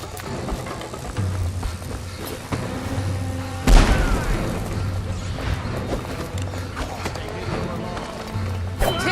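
An explosion in the Dishonored: The Brigmore Witches video game gives one sharp, heavy boom midway. Continuous game noise, running footsteps and combat voices surround it.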